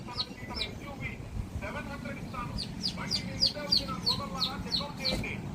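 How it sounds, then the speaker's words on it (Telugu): Three young chicks give repeated high, thin peeping chirps in quick clusters, moderately close, over a constant low rumble of background noise. "మా ధీరజు 3 కోడి పిల్లలు తీసుకొచ్చిండు."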